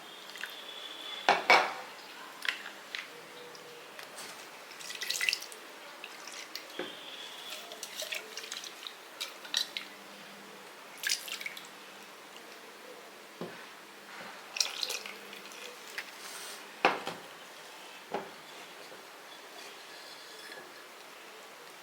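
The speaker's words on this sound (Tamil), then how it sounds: "இப்போ இதில் வந்து கொஞ்சோண்டு தண்ணி ஊற்றி அலசிக்கலாம்." Water poured into a vessel while varagu millet rice is rinsed by hand for appam batter: scattered clinks of the pot, drips and splashes in irregular bursts over a quiet kitchen background.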